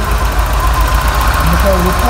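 A cold Ford Scorpio engine idles roughly at close range, a steady low rumble with slight hesitation and uneven pulses, while people talk over it.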